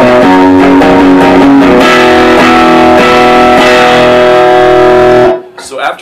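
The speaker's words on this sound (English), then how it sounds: "it starts out with this kind of funny muted chord effect" Muted, damped guitar chords from a scarf left lying across the strings, played loud and steady as a repeated chordal pattern for about five seconds before cutting off abruptly.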